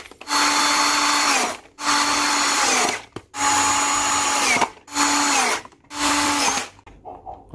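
A power drill tightens screws on the housing of a faulty jet cleaner under repair. Five loud, close whirring bursts each wind down at the end, with short gaps between them.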